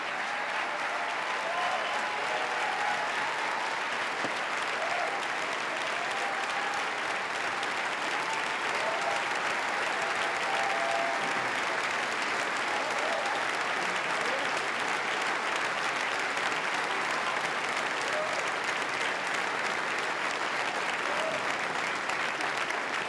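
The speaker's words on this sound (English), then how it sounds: "Give them a big round of applause." A large audience applauds at a State of the State address, a dense, steady roar of clapping that holds loud and continuous throughout, with faint crowd voices beneath.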